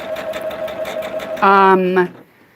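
A sewing machine stitches along the solid line of a dahlia quilt table topper, giving off a steady, pulsing whine, with a voice briefly rising over it before things go quiet.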